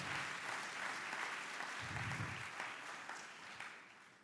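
Audience applause fills a physics tournament awards ceremony in a hall, a dense, steady patter of many hands that carries throughout and eases off slightly toward the end.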